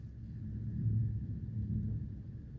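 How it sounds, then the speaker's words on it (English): A low, rolling rumble of thunder during a spring rain swells twice and fades, deep and fairly faint, with nothing else audible. "You guys hear that thunder? It's raining outside."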